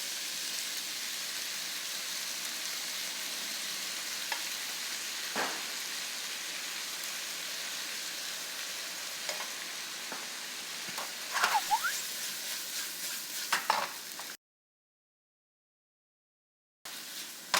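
Scored squid stir-fries over high heat with store-bought stir-fry sauce and chili flakes, giving a steady, close sizzle with a few light clinks and scrapes, then a brief silence near the end.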